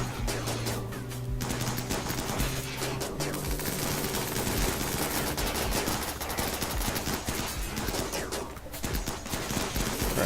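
Dense automatic gunfire from colonists shooting at mechanoids in Rimworld, a continuous rattling fusillade of overlapping shots with brief dips, loud and close throughout.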